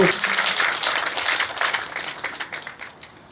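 A crowd at a Rwandan dowry-giving ceremony claps, starting loud and dense and gradually thinning and fading toward the end.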